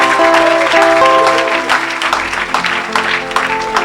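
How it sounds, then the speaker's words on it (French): A church congregation clapping loudly and continuously, dense applause running throughout with music tones ringing underneath. "Put your hands together."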